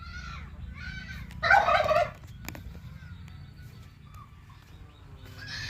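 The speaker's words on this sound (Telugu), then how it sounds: "కొన్ని పొదిగే కోళ్ళు కూడా ఉన్నాయి చూడండి" A brooding hen on a country-chicken farm gives a short burst of loud clucking, followed by quieter chicken noises over a low rumbling outdoor background.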